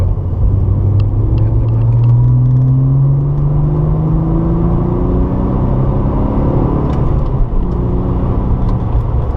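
A Porsche 997 Targa 4S accelerates hard on a race circuit, its engine note rising loud and close in a continuous rumbling climb, then dropping back and rising again.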